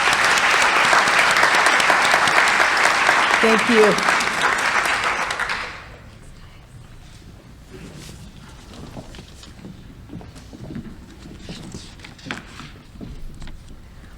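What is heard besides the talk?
audience applause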